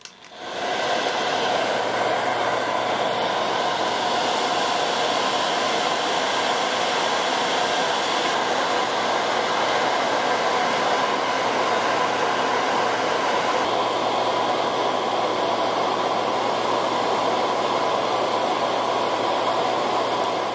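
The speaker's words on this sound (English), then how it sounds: "instead of using a hairdryer" A hair dryer starts up and then blows steadily and loudly, a constant whooshing roar with a faint hum, running alone for the whole stretch.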